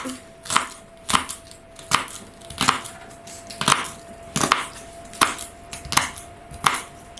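The last leeks for a leek and goat cheese quiche are sliced with a knife on a board, about a dozen crisp, evenly spaced chops, close and clear with no talking.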